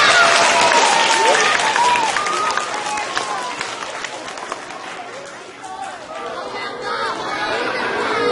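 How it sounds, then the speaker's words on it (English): An audience gives an Air Force jazz band a round of applause, a strong burst of clapping mixed with crowd chatter that fades midway, then swells slightly again at the end. "So, can we give them a round of applause?"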